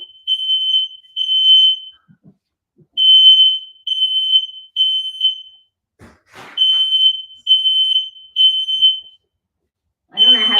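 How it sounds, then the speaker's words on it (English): A household smoke alarm sounds off from smoke, blaring loud, shrill beeps in repeating bursts separated by short silences, with a brief voice and a clatter partway through. "That's a smoke alarm because of the smoke."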